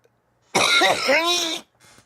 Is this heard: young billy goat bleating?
no